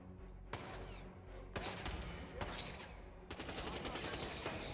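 Bursts of rapid gunfire from Hitman 2, several loud volleys and sharp single shots in quick succession with brief gaps, a dense combat soundscape.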